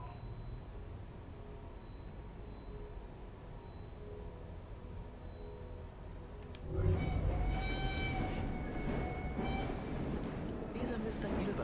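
A moving train in the video game Assassin's Creed Syndicate rumbles steadily, turning louder and rattlier partway through, with a voice talking over it.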